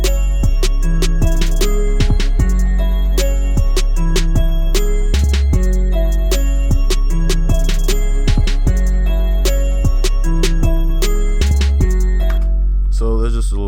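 A simple homemade music beat plays back on its own before any mixing, with a steady repeating pattern of deep bass hits, drums and a sustained tonal loop, loud and continuous throughout.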